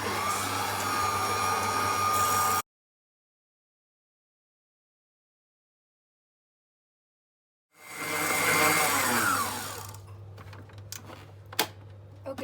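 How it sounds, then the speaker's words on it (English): A stand mixer whipping meringue toward stiff peaks gives off a steady electric motor whir that cuts out to silence, then spins back up before settling into lighter clatter and clicks. "we just put it over the stand mixer and we just let it mix until it gets"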